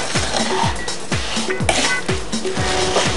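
Egg and milk are beaten in a bowl, with a fast, regular run of whisk or spoon clinks against the side, loud and close.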